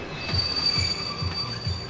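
Ghost train rolling in Kingdom Hearts 2 Final Mix, with steady rail rumble, a thin high wheel squeal held over it, and low rhythmic clacks repeating about every half second.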